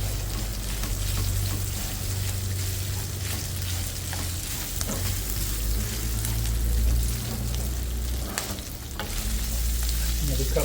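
Chorizo fries in a pan for breakfast tacos, giving a steady, close sizzle with soft crackling and a low background hum throughout, and no talking.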